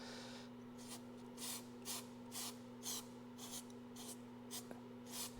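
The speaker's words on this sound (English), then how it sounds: "I'm just going to give it another spray there." Repeated short hissing bursts from an aerosol can on a 1982 Honda CB900F motorcycle under restoration, about ten quick sprays in a steady rhythm over a faint electrical hum.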